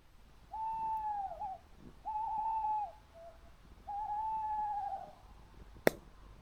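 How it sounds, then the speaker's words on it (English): An owl hoots close by at night at a wild camp, three long wavering calls at a steady pace, followed by a sharp click near the end. "There's an owl really close."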